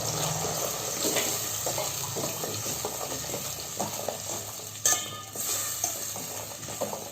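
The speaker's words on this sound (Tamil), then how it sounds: "தக்காளி போட்டு நல்லா தக்காளி எண்ணெயிலே வதங்கணும்." Pureed tomato sizzles and fries in hot oil in a pan for Tamil fish curry, giving a steady close crackle with occasional stirring scrapes throughout.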